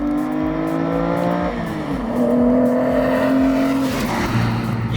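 BMW engine howling under hard driving, sustained high revs with gear shifts and pitch changes, loud and close, with tire noise creeping in toward the end.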